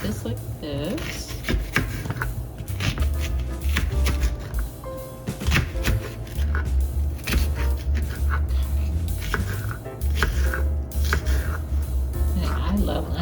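An onion is cut into big chunks on a board for a zucchini vegetable medley, giving a run of quick, irregular knife thuds over a steady, busy kitchen background.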